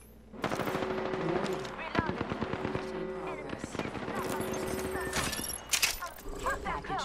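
Rapid bursts of automatic gunfire from Apex Legends ring out up close in repeated volleys with brief pauses, mixed with game effects and a voice talking over the shooting.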